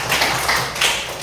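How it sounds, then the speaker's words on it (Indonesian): An audience claps for a man named Aldi during a lesson led by an ustaz, a dense, steady patter of many hands that rises and falls in short swells across the whole moment. "Tepuk tangan dulu untuk saudara Aldi"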